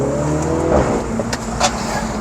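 Mini Cooper JCW heard from inside while driving, a steady engine drone with a few sharp exhaust pops and crackles on top, plus faint rattling from loose parts in the cabin.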